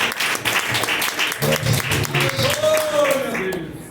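A church congregation claps in victory for a preacher. Dense clapping runs throughout, with voices calling out over it and a rising vocal exclamation near the end.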